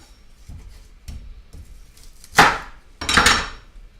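A knife working through an onion on a cutting board: a few soft taps, then two louder, sharper chopping strikes against the board, close and alone.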